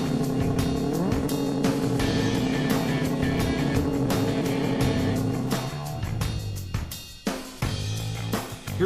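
A 1970 Nordskog Brugge tunnel racing boat engine runs steadily as the boat idles back to the test dock, a continuous, fairly close motor rumble with a few sharp clicks and knocks.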